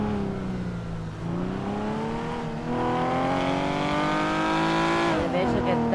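A car races along in Grand Theft Auto, its engine droning loud and close as the pitch sags, then climbs with rising revs and shifts gears, continuous throughout.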